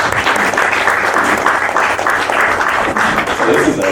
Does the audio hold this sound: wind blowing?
no